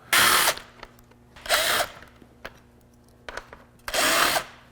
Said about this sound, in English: We're just going to go around and take these bolts out of the sides of it